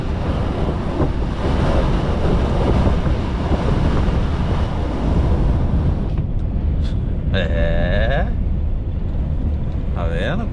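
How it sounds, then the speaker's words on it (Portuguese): A strong headwind roars steadily against a truck on a long straight road near Uruguaiana, a loud continuous rush filling the whole clip, with a few brief tonal chirps toward the end. "Quantidade de vento, pega e com força, hein?"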